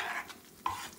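Ingredients being stirred and fried in a pan while making beef lasagna: a soft sizzle runs throughout, with a brief clink of a spoon against the pan partway through. The cooking sounds are fairly quiet and close, with no talking.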